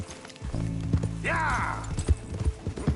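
Horse in Red Dead Redemption 2 with thudding hoofbeats at a galloping pace, loud and close, plus a short whinny partway through.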